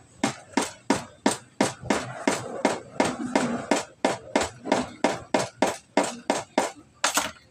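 A hammer taps a screw in an even, regular rhythm, about twenty sharp metallic strikes spaced under half a second apart, close and moderately loud.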